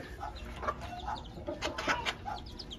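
A mother bird with chicks clucks softly while scratching for food near her nest, short repeated clucks and chirps in a loose rhythm, fairly close, over a steady low background hum.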